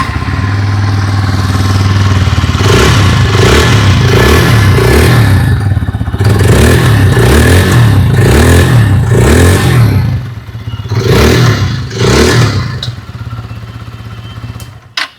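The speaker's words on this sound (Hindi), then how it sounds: "आइए अभी सुन लेते हैं इस बाइक की एग्जॉस्ट नोट।" A 2026 Hero Xtreme 160R 4V motorcycle revs up close by, its exhaust note rising and falling in repeated throttle blips over a loud, rumbling idle.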